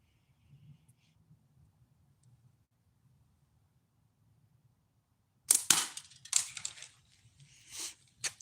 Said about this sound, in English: I'm shooting all natties today, Uncle Dean, for Natural November.